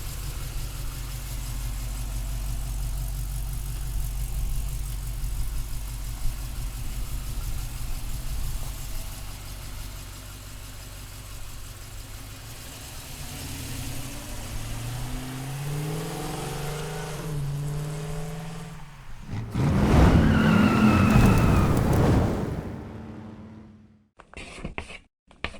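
A 1969 Chevrolet Camaro resto-mod with an LS1 engine idles with a steady low rumble, then revs up loudly in a rising surge before abruptly cutting off, close by and with no talking.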